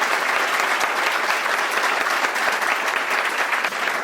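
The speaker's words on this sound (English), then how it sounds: "I think Marie deserves a round of applause." An audience gives a round of applause at a tribute concert, a full, even wash of many hands clapping at close range, steady and loud throughout with no voices over it.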